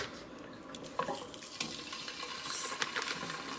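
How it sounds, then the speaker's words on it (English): Uncured bacon sizzles in a frying pan over medium to low heat, giving a steady close hiss broken by small crackles and pops. "Hear the sizzle."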